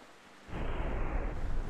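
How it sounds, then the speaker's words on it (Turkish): Rain in GTA San Andreas starts abruptly as a loud, dense broadband wash with low rumble, continuing steadily after a short quiet opening. "Yağmur yağıyor."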